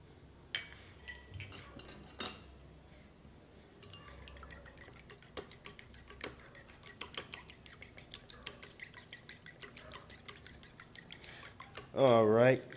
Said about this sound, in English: add the egg to the 6 egg whites, and just going to beat that up real quick